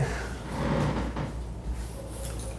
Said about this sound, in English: And opening that front door